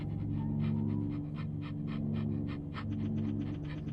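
Nina, a dog in a video game, pants in quick rhythmic huffs at a soft, steady level, with a low hum underneath and no talking.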